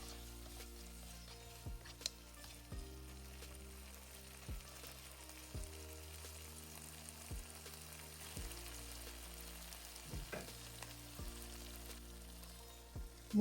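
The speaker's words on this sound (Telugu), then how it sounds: "2 మినిట్స్ హై ఫ్లేమ్లో బాగా ఫ్రై చేయండి" Chicken starter masala frying hard on high flame in a pan, a steady close sizzle and crackle running throughout with occasional soft clinks of stirring, no voices.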